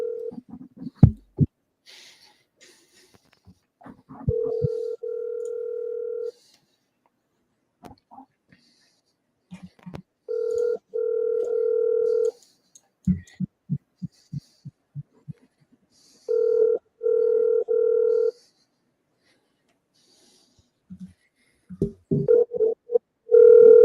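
Telephone dial tone from an outbound cold call, a steady tone sounding in several separate stretches with clicks and short pulsed beeps between them, clear and fairly loud with no talk over it.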